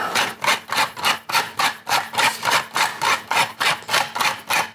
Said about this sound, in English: a teaspoon of salt, a few grinds of pepper